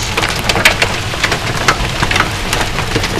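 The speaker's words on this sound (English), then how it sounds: "This is the biggest hail I've ever seen come down here at our house." Large hailstones pound down across a front yard at a house, a loud, dense clatter of irregular hard impacts sounding continuously with no voices.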